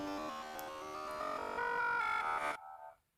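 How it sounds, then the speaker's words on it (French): Crackling, buzzing static from a phone in the Deltarune video game, a dense electronic tone that holds steady for about two and a half seconds and then cuts off abruptly. "Ce n'est que des bruits parasites."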